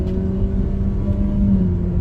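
Mitsubishi Xpander Cross 2023 CVT under kickdown, engine droning steadily near 6000 RPM with a simulated gear change, a loud sustained whirring hum with faint pitch steps throughout.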